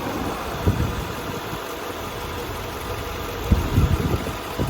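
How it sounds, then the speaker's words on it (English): A 1984 Mercedes 500SEC with the M117 V8 idling, a steady low rumble with a slight knock and a few louder throbs, heard up close with no talking. "Engine at idle on the M117."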